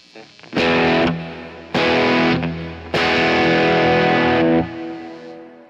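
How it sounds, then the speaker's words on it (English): Dark, distorted electric guitar chords ring out in three strummed bursts, each sustained with a washy reverb tail before fading. "if I add a reverb to it"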